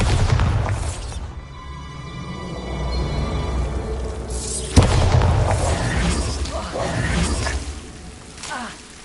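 Bombarda blasting spell explosion in Hogwarts Legacy, a rumbling blast rising into a sharp loud crack near the middle, followed by crumbling debris and rumble that fades out.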